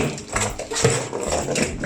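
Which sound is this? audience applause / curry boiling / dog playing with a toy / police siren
dog playing with a toy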